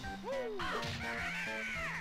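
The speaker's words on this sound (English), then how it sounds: "You hit the bird, and he just screams." Kazooie the bird from the video game Banjo-Kazooie screeches when hit: loud, rising and falling cawing squawks repeat over a steady background game tune.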